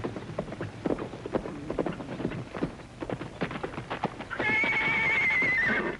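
Horse hooves clop rapidly on the ground as a rider gallops up and arrives in an old Western television setting, then a horse whinnies loudly and close.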